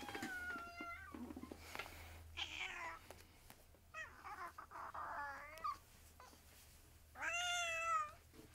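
A cat meows repeatedly at close range, several drawn-out, rising and falling cries spaced across the stretch, with a louder, longer wail near the end.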